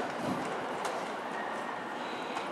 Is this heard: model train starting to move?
yes